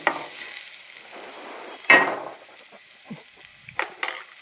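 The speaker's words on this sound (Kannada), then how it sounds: "ಒಳ್ಳೆ ಮಾಡಿ ಫ್ರೈ ಆಗಲಿ." Turmeric powder frying in hot oil in a pan while cucumber palya is cooked: a soft, steady sizzle with stirring scrapes and a few sharp clinks of a utensil against the pan.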